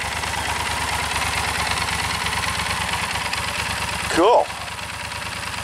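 A 2015 Yamaha Super Tenere motorcycle engine idles steadily up close, then gets a single short, sharp rev before dropping back to idle, with a brief spoken remark nearby.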